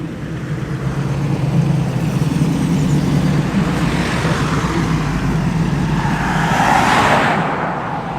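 TVR Griffith and Chimera sports cars rolling into an outdoor car meet, a continuous loud engine and road rumble up close that swells toward the end as a car passes near, with no talking.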